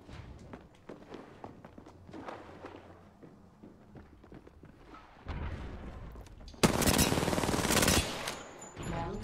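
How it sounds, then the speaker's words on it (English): R-99 submachine gun fire in Apex Legends comes in loud rapid bursts after earlier footsteps and scattered distant shots, building to a dense close volley near the end. "My shots with the R9 are not hitting."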